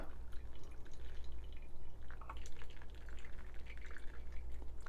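Hot water drips and trickles through a paper pour-over coffee filter in a quiet, uneven patter under a low steady hum, with no speech.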